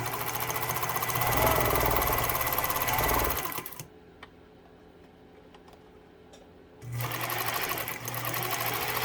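A Pfaff 230 sewing machine runs in two loud, fast mechanical bursts of rapid ticking stitching, separated by a quiet pause with soft clicks before the motor starts again.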